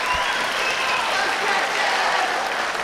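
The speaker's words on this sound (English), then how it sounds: "Listen to this crowd." Close and steady roar of applause and cheering from a crowd at an independent wrestling show, a continuous wash of clapping with no pauses.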